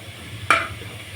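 Tomato paste hits a pan while cooking a one-pot spinach biryani: a single short burst of sizzle and stirring rises sharply, then fades back into low, steady background frying.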